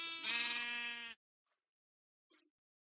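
A Minecraft sheep bleats once, a clear, close, tonal bleat lasting about a second, followed by near silence with a couple of tiny faint game clicks.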